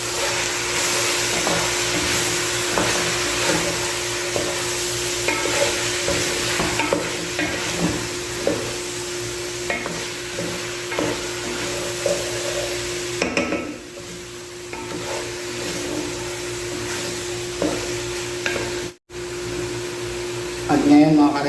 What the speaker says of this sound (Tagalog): Haluin natin. Mix natin.